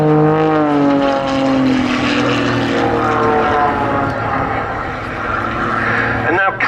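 A Pitts biplane's propeller engine drones loudly overhead during an aerobatic display, its pitch sliding and shifting through snap rolls and manoeuvres, with a voice talking over it.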